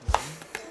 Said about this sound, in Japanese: これはね、まさかのみじん切りです